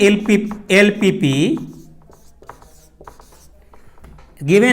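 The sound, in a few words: pen writing on paper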